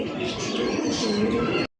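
Pigeons cooing at a pigeon farm, a dense, steady chorus of low coos and bird calls close by that cuts off abruptly near the end.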